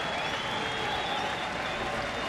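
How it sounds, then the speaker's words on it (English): Baseball fans at a Cleveland Indians game in Kansas City stand and cheer, a dense, continuous wash of applause and crowd noise with no break. "the fans appreciate Luke's effort to this point, and many begin to stand and cheer him on"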